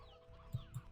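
Chickens clucking in Slime Rancher 2, two short low clucks close together over a quiet ambient background, soft and near, with no talking.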